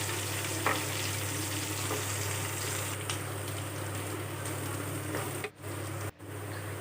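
Chopped onions frying in a pan for an Assamese duck curry with potato: a constant close sizzle with occasional stirring scrapes, briefly dropping out twice near the end, and no voices.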